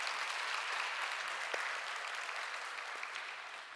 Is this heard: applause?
yes